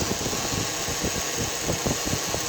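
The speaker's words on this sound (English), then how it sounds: "So right now it seems to be idling pretty steady." A Ford Taurus engine with a blown fuse and trouble code P1633 idles steadily, a continuous low rumble with faint irregular pulsing and broad mechanical hiss, close by and alone.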